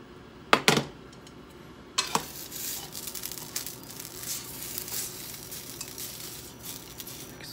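Yakisoba noodles hit a lightly oiled pan over medium heat with a couple of sharp metallic clanks, then settle into a steady, close sizzle with occasional stirring scrapes.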